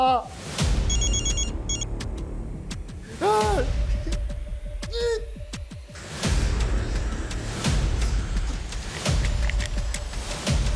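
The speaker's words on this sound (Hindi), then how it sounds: "छेती फोन उठा।" Telephone ringing in a tense crime-drama scene, a series of repeated electronic rings in bursts with warbling tones between them, loud and close, while someone speaks urgently over it.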